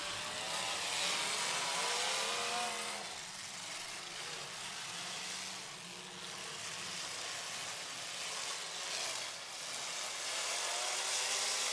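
At a demolition derby, a car engine screams at high RPM, a loud, continuous, slightly wavering roar with rising and falling harmonics and crowd-scale background noise, no one speaking.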